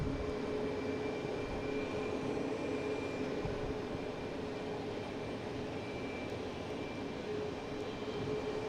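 An Airbus A321 airliner arriving from LAX at an airport produces a faint, steady, distant engine drone with a low, constant hum.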